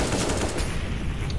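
Dense, continuous gunfire from a competitive Counter-Strike-style video game scrim match, rapid overlapping shots and bursts filling the whole stretch at steady loudness with no talk.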